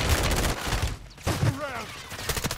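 Rapid gunfire in Call of Duty, bursts of loud close shots rattling in quick succession at the start and end, with a brief lull between and voices speaking under the shooting.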